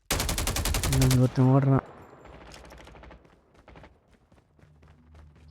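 Gunfire in a Call of Duty battle royale game arrives as a loud, rapid burst of shots at the start, then gives way to someone talking over faint background game sounds.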